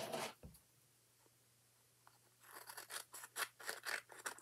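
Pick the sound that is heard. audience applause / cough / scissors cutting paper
scissors cutting paper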